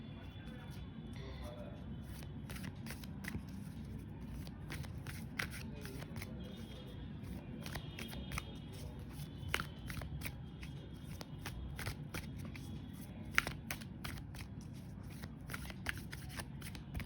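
A tarot deck is shuffled by hand in soft, repeated riffling bursts that continue steadily for the whole stretch. Someone talks quietly over the shuffling.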